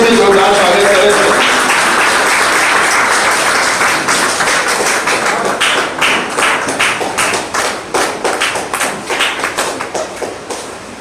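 An audience at a Kanpur theatre awards ceremony breaks into applause. It starts as dense, loud clapping, then thins into scattered individual claps that fade over several seconds.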